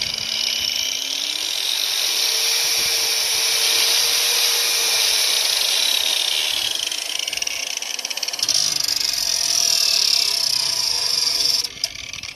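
Ryobi 1500W 180mm angle grinder running at variable speed: a continuous high whine whose pitch slides up and then settles and shifts, loud and steady throughout with no talk.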